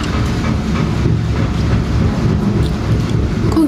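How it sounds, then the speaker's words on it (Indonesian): A washing machine running, giving a steady, loud low rumble and churning whoosh that continues unbroken throughout, with no voices over it. "emang suara mesin cuci kayak gitu ya guys?"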